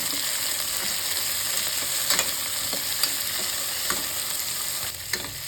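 Tomatoes fry in a pan for a fenugreek-leaf dish, a continuous close hiss and sizzle broken by a few soft stirring scrapes, with no talking.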